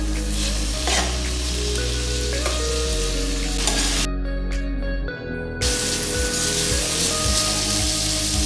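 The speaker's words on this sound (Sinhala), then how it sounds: "හොඳින් කලවම් කරගන්න." A king coconut tempered dish frying in a pan gives a steady loud sizzle, with stirring scrapes and one brief dip in the hiss partway through; no one speaks.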